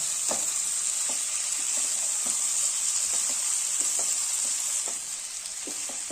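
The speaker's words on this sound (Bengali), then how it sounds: "সব মশলাগুলো মিশে গেছে আর ভাজা ভাজাও হয়ে যাচ্ছে" Squash curry, a hill vegetable dish cooked with spices, sizzles steadily in a pan, a loud, even frying hiss broken by about a dozen soft scraping stirs of a spoon.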